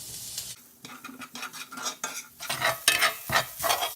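Garlic, ginger and garam masala stirred in a pan with a spoon, giving repeated close scraping and clinking strokes over a light sizzle.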